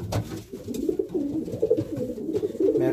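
Racing pigeons in a loft, several birds cooing continuously with overlapping low throaty calls, close and fairly loud with no talking.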